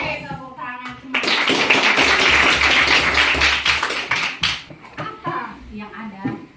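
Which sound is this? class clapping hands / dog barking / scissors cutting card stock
class clapping hands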